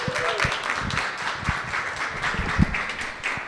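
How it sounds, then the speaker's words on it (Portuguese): An audience applauds a guest at a live talk session, scattered hand claps and taps at moderate volume, fairly sparse and uneven rather than a dense roar, with some background murmur. "uma salva de palmas para ele"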